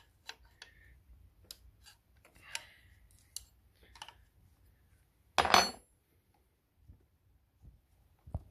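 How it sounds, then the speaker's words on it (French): A 17 mm spanner working on the diesel fuel line fitting of a Renault Clio 2 1.5 dCi, giving sparse metallic ticks and clinks, with one louder scraping burst partway through, in a quiet setting. "Je prends une clé de 17."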